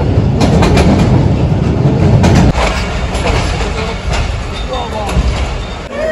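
Interior of a train travelling from Rawalpindi to Lahore, with a loud continuous rumble and rhythmic wheel clatter, a few sharp clanks, and people talking over the noise.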